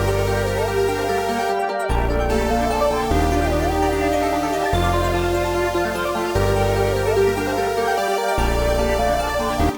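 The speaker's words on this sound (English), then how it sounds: "I had this basic Zenology sine lead, and I just pasted some simple notes" Reversed Zenology sine lead synth playing simple notes in FL Studio, steady and loud with swelling backward attacks, layered over a deep sustained bass and a looping beat, with brief dropouts between phrases.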